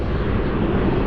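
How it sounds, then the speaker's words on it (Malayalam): Airplane engine roar from a flight passing near an airport in Canada, a steady broad rumble throughout the short stretch, fairly loud and with no voices over it. "അവിടെ അപ്പോൾ ഇവിടുന്ന് ഫ്ലൈറ്റ് വരുന്നുണ്ട് കേട്ടോ."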